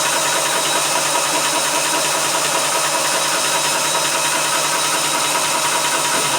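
A Vevor PCP 4500 PSI high-pressure air compressor runs steadily and loud up close, a dense mechanical drone with a fast chugging pulse that stays constant throughout.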